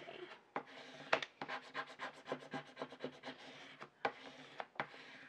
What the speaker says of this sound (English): what I'm gonna do is take my scraper,